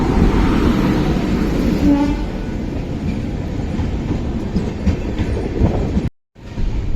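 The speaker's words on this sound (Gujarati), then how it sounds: "જો આ ટ્રેન આવી ગઈ છે આપણી" Saurashtra Janata Express train arriving at a station, a loud continuous rumble and rattle of rail cars passing close by, with a brief dropout near the end.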